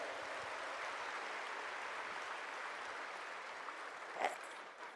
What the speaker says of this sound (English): big round of applause to all the audience who are present here